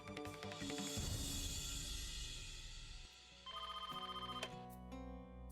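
A telephone rings in a drama scene, a steady electronic ringing pattern running through the clip over background music, loud and close, with no talking heard.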